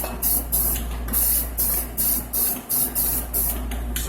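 Rust-Oleum gloss spray paint in Maui Blue hisses from an aerosol can in about nine short, regular bursts, each a bright sharp spray with brief pauses between, over a steady low hum.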